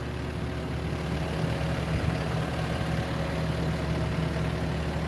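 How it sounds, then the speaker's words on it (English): Heavy demolition equipment idles at a bank building teardown in Rocky Ford, Colorado, a steady low engine rumble with a faint mechanical hum, continuous and fairly quiet at a moderate distance. "And it's amazing how quiet this equipment is right here, actually. Idling, getting ready to go."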